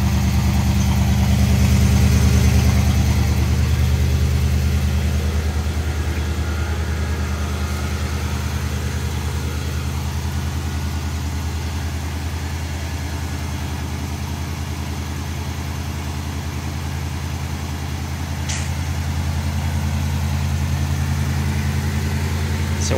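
A 1972 Oldsmobile Custom Cruiser with a Rocket 455 V8 idles steadily after a cold start, a deep, even rumble held close and loud throughout with a slight drop in level partway through.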